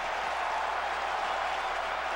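A baseball crowd at a Yankees–Twins game gives a brief, distant applause and murmur, a steady broad wash of noise with no clear peaks, heard alone without talk.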